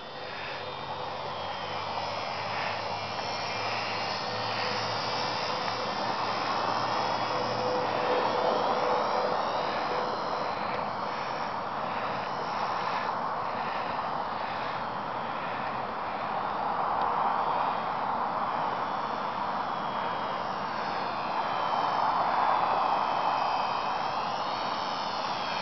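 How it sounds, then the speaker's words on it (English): A Super Cub model airplane flies at night, its engine giving a continuous buzzing drone that rises and falls slightly as it passes, steady and moderately distant throughout. "this plane, Supercub, flying at night."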